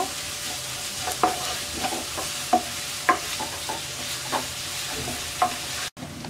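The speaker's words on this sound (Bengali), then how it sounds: "পেঁয়াজটা হালকা ভেজে নেব।" A large chopped onion fries lightly in hot oil for egg chops, a constant gentle sizzle broken by regular spatula taps and stirring strokes, ending in a brief sudden dropout.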